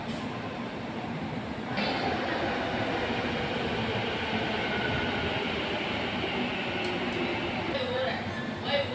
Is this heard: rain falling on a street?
no